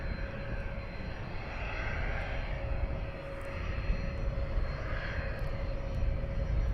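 Beechcraft 400 business jet taking off at Luton Airport in a crosswind, a sustained engine roar at middle distance that swells and ebbs slightly and carries a steady high whine.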